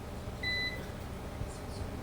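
A washing machine gives a short electronic beep as its wash cycle starts, a single clear tone over quiet room hum, followed by faint soft chirps; nobody speaks.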